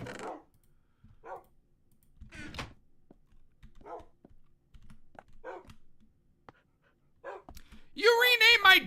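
A few dogs bark and yip in short, sparse bursts between keyboard typing and mouse clicks, followed by a loud closer bark at the end; the barks are faint and scattered, with speech also present.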